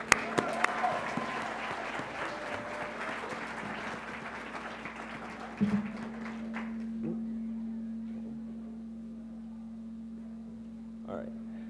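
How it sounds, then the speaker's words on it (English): Audience applause at a high school pep rally, a dense wash of clapping that fills the first half and then thins out into a low steady hum with scattered claps. "Let's give them one more round of applause."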